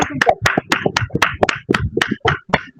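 An audience at a stage event claps to welcome a guest speaker, producing a steady run of loud, evenly spaced hand claps close by.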